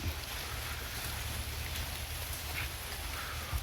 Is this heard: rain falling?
yes